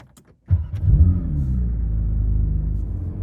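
A Porsche 911 GT3 Touring in PTS Green starts moving off, its engine rising abruptly to a loud, steady rumble that holds close and even with no talking.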